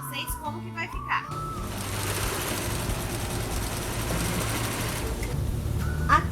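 A sewing machine joins fabric scraps for a patchwork rug, running in one continuous, close whirring stretch of several seconds, with someone talking briefly before and after it.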